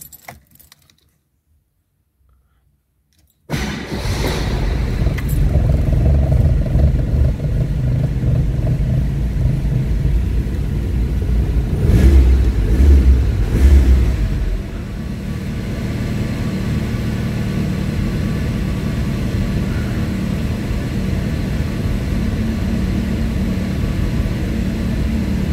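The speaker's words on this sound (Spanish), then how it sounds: "Y vamos a darle arranque al auto." A Renault 12 GTS engine cranks and catches after a few seconds of silence, then settles into a loud, steady idle that swells briefly before easing back.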